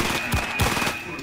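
Pistol gunfire in the I.G.I 2 video game, two or three sharp close shots in quick succession over a steady background hum.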